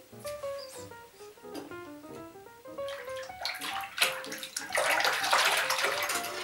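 Hot water runs into a basin, a steady pouring rush that swells louder toward the end, with faint tones in the background.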